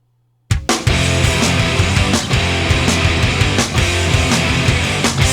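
Loud, dense grunge rock band music kicks in after a brief silence: distorted guitars, driving drums and heavy bass in a raw rock sound.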